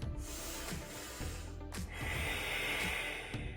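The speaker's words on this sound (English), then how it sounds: "you're breathing in your nose and then you're going to close your back of your throat a little bit" Slow, rasping ujjayi yoga breaths drawn in and pushed out through the nose and a slightly constricted throat, a soft hissing rush that swells and fades.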